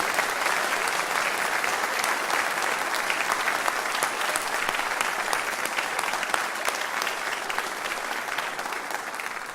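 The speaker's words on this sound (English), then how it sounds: "Let's give a round of applause to the new members." An audience claps for newly inducted members at a school honor society ceremony, with sustained, even applause from a large crowd in a hall and no one speaking.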